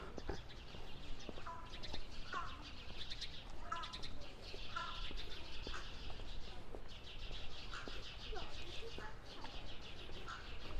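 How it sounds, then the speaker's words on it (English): Small birds chatter and chirp in quick repeated bursts on a quiet Brooklyn street in Bath Beach, fairly faint and a little distant over a low steady street hum. "A lot of bird chatter though."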